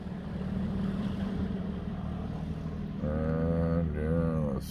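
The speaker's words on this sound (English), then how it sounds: "Speaking of four-wheelers, I hear one coming." A four-wheeler ATV driving past, its engine drone building from a faint distant hum into a nearer whining, rising and falling motor tone as it passes, with no talking.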